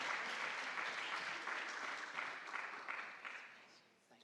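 Audience at an awards ceremony applauds, a dense, even round of hand clapping that holds steady before tapering off toward the end.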